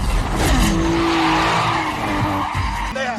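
Racing cars in a Fast and Furious 2 street race roar past with loud, sustained tire squeals and skidding over revving engines, a close, dense burst of sliding rubber and motor noise.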